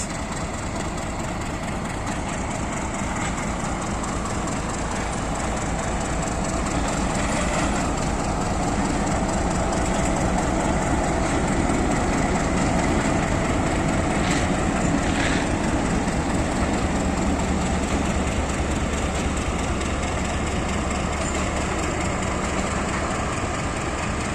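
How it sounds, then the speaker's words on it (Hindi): The Hazara Express pulls out from a platform with a heavy diesel engine rumbling low and steady, mixed with continuous rolling and clattering from the railcars. The noise stays loud and close the whole time, with no talking. "प्लेटफार्म नंबर 4 से चली है आज हज़ारा एक्सप्रेस।"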